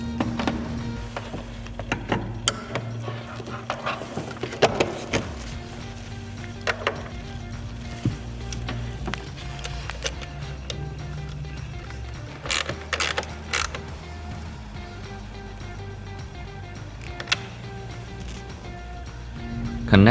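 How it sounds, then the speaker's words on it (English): A ratchet with a 10mm socket loosens a nut on a Jeep Wrangler JL or Gladiator JT, giving scattered close clicks and short mechanical bursts over a low steady hum, with no talking. "Remove this nut with a 10mm socket."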